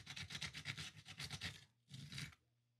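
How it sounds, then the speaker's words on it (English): A small dowel rod rubs foil tape flat inside a guitar cavity, making quick rhythmic close-up scraping strokes with a crinkly edge. A steady run of rubbing is followed by a short pause and one more brief burst, all faint and without talk. "I'm just going to take my little piece of dowel rod, flatten out the bottoms like so."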